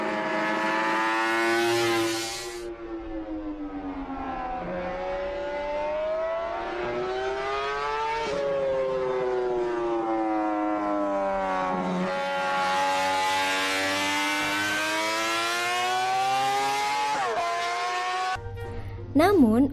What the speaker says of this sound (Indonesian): Namun uniknya RC166 bukan motor 2 tak, melainkan motor 250cc 4 tak.